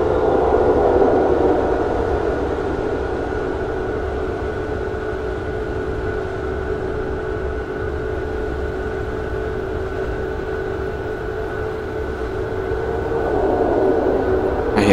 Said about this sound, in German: Fahren gerade zwei S-Bahn-Züge lang.